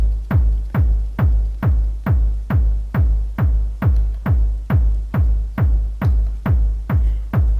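A second vinyl record spins on a DJ turntable, pumping out a steady four-on-the-floor kick pattern of deep, evenly spaced thumps with a faint bright top, loud and with no talk over it.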